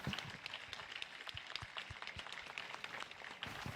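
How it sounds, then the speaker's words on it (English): A panel audience applauds at the close of a tech and creativity discussion, with dense, quick clapping that holds fairly even and a little distant throughout. "A big applause from our panelists"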